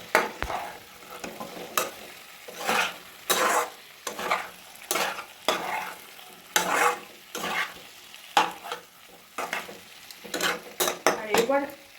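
Eggs and potatoes stirred gently in a pan over a gas flame, giving a rhythmic series of close scraping and sizzling strokes with short pauses between them.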